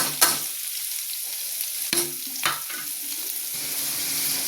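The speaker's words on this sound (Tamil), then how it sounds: "இந்த வெங்காயத்தை போட்டுருவோம்" Onions tipped into hot oil for biryani, with a steady frying sizzle and a few sharp bursts and stirs as they hit the pan, close and moderately loud with no talk.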